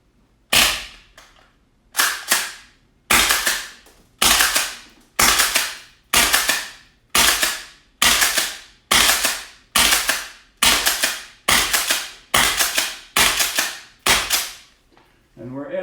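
A VFC Fabarm STF/12 gas blowback airsoft shotgun fires about fourteen sharp, loud cracks at a steady pace of roughly one per second, each followed by a brief hiss of gas, emptying the magazine close to the microphone.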